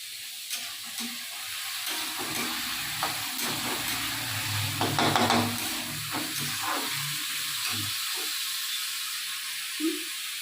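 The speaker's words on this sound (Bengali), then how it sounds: "আর একদিকে ওই যে ভাজাটা বসিয়ে দিয়েছি" Food fries in a pan in a home kitchen, a steady soft sizzle with scattered clinks and stirring scrapes, fairly quiet and without speech.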